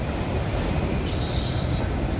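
A CSX freight train led by refurbished SD70MAC locomotives passes close by, the steady rumble of rolling cars joined by loud high-pitched wheel squeal.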